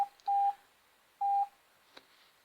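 Morse code character tones for learning: clean steady beeps, a short-long pattern of two separate tones, loud and alone, with a faint click near the end.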